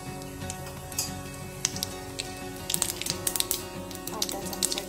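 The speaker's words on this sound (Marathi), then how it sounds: "मोहरी छान तडतडून द्यायची आहे।" Half a spoon of mustard seeds crackle and pop in two spoons of hot oil, a steady busy sizzle with scattered sharp pops throughout, close and fairly loud, no talking.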